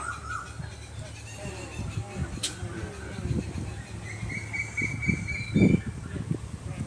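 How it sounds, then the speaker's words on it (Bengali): Many birds call and chirp along a quiet wooded path, lined with trees, near the Attahas Sati temple at Nirol in Bardhaman. Scattered chirps and whistles sound at a moderate distance over a soft outdoor background with faint murmuring. "প্রচুর পাখির ডাক,"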